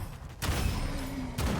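A Qing "Double Tap" shotgun fires in a video game, giving two loud, sharp blasts about a second apart, each trailing into a brief rumble.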